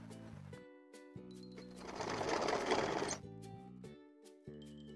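A sewing machine stitches a sleeve onto a suit, starting and stopping in short bursts around a longer continuous run with a steady mechanical rattle, close and clear.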